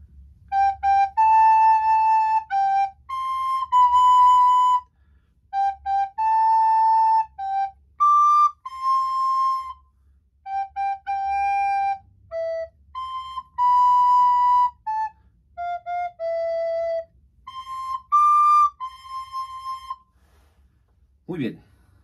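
A recorder plays Happy Birthday note by note, clear pure tones in short phrases with brief gaps, close and alone for about twenty seconds.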